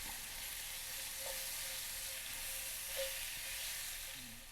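Thinly sliced onions and apples fry in a pan with a soft, even sizzle, a faint continuous hiss close by with a few slight pops.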